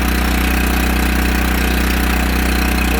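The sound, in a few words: Kohler gas engine of Miller Blue Star welder generator running rough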